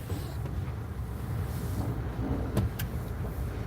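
Road traffic rumbles at a steady low level, with engines passing nearby and a couple of brief sharp clicks or knocks near the end, no speech.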